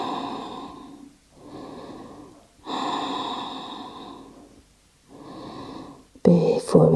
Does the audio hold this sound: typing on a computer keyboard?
no